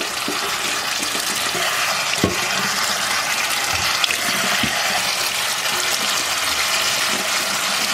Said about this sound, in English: One minute to rinse that off and clean it up